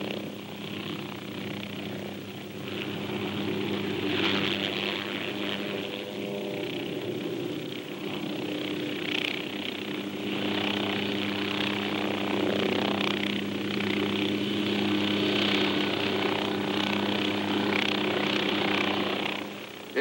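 An OH-6 light helicopter's turbine engine and spinning rotors drone steadily and loudly up close as it pivots around its tail rotor, a continuous whining hum with a constant low throb that never lets up.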